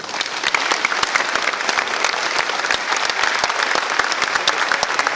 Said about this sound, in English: Please join me in a special round of applause for our very special guest, Mr. Robert Horry.